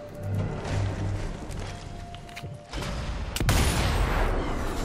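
Sharp gunshots crack amid a busy rumble of Sniper Elite 4 game noise, with a heavier blast near the end; no one speaks.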